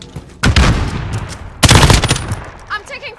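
Gunfire in the Call of Duty: Modern Warfare multiplayer match Night Fang, with two loud bursts of shots about a second apart, followed by fainter in-game clatter and chatter.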